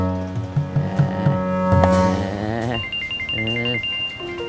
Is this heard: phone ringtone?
yes